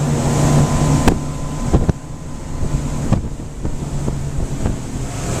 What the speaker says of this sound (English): Beautiful, beautiful running boat.